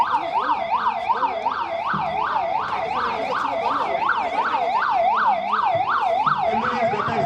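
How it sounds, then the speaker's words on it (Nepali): Ambulance siren arriving at a fire and disaster response drill in Taumadhi, Bhaktapur, a loud continuous rapidly warbling wail cycling steadily up and down, close by over faint background noise. "एम्बुलेन्स घटनास्थलमा आइपुगेको छ।"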